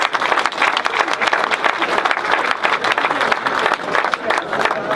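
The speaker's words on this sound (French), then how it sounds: "vous pouvez les applaudir" A large audience at a gathering in Cerdans claps steadily and loudly, dense sustained applause filling the space for several seconds without pause.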